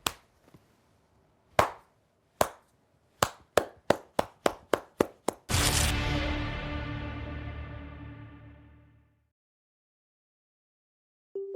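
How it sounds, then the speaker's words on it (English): Single claps start slow and spaced out, then speed up into a quick run before a loud crash rings out and slowly decays. "Slow clap."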